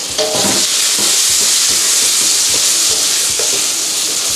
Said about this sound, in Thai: ใส่ทุกอย่างที่มีอยู่ลงไปผัดนะครับ พริกอ่า แตงกวา พวกนี้สุกง่ายทั้งนั้น เลยเอาไปคั่วเอาไปผัดกับน้ำมัน